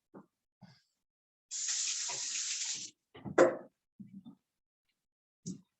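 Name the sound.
water running from a tap while washing hands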